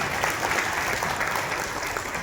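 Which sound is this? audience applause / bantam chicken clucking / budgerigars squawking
audience applause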